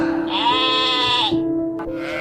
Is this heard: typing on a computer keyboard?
no